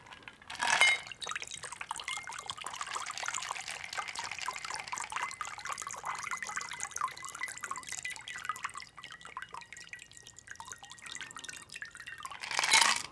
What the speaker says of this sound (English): And then I'm going to go ahead and divest it into the glass.